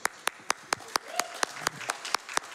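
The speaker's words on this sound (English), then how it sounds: "Which means y'all can applaud." Audience applause during a live Summer Games Done Quick 2024 speedrun event, heard as a run of sharp, evenly spaced claps with scattered crowd noise between them, moderately loud and without speech.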